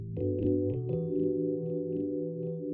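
A sustained synthesizer chord swirls with a phaser sweep while synced delay echoes from a Mantra flanging stereo delay plugin repeat short higher notes above it, steady and fairly loud.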